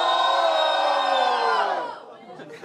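Spectators at a Brazilian freestyle rap battle, the Batalha do Galo, let out a loud collective roar and whoops that last about two seconds before fading into scattered shouts and noise.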